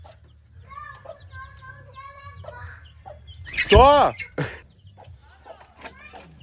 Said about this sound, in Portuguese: Pega esse pinto.